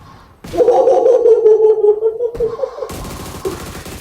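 AMR sniper rifle in the mobile game PUBG Mobile, a sharp shot followed by a drawn-out ringing tone, then a second crack and a noisy tail, loud and close.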